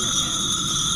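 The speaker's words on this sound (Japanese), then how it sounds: "本当カエルの鳴き声。" Frogs croak in a continuous, dense chorus of steady high trilling at a temple garden wind festival, loud and unbroken, with faint voices beneath.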